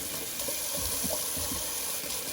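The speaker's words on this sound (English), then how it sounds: "Just going to do a little cold water rinse." Cold tap water runs steadily into a sink to rinse a Mühle Rocca safety razor fitted with a Chroma diamond blade, a continuous splashing hiss with faint knocks, fairly close and without talk.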